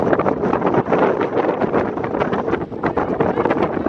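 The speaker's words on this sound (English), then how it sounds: "Wind is blowing real heavy now." Heavy wind buffets the microphone at an outdoor semi-pro football game, a loud, continuous rumbling roar with gusty rustling that stays steady for several seconds, no voices over it.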